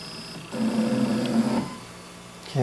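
A Shaper Origin handheld CNC router fitted with a 1/4 inch bit touches off against the work surface, producing a short, close electric motor hum with a steady tone that rises for about a second and then fades.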